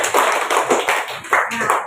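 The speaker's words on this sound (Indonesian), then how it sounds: "tepuk tangan untuk temannya." Classroom of young pupils clapping for a classmate, a short burst of quick, uneven hand claps in the room, fairly close and alone without talk.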